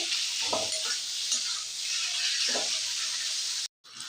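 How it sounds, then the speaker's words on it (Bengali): Spices with turmeric and salt stirred and sautéed together in a pan of oil, a steady close sizzle with a couple of scraping stir strokes, briefly cutting out near the end. "ভালো করে কষিয়ে নেব সব একসাথে"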